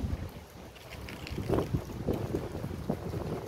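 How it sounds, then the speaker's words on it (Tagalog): Soft outdoor wind gusts buffet the microphone in Taiwan, a low rumbling rush that swells and eases in uneven puffs, fairly quiet, with no talking. "O, sarap ng hangin"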